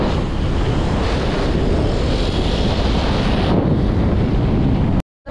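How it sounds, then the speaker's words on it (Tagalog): Strong wind buffets the microphone during a motorcycle ride, a loud, dense, steady roar of rushing air that cuts out abruptly near the end. "lakas ng hangin"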